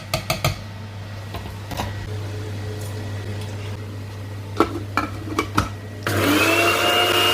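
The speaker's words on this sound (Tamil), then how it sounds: "இப்போ நாங்கள் இனி சீரகம், மிளகு, மல்லி, பெருஞ்சீரகத்தை அரைக்க போகிறோமா" Blender grinding cumin, pepper, coriander and fennel, a loud steady whirring that starts after several clicks and clattering handling sounds near the mic.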